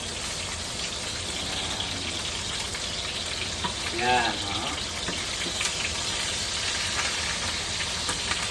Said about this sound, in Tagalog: Eto, nagpiprito ako ng hotdog.